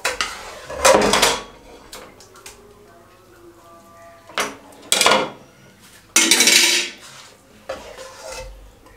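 Suji (semolina) halwa with saffron being served from a pot with a spoon: scraping, rasping metal-on-pot sounds and clinks come in several separate bursts, close and fairly loud, with quiet gaps between them.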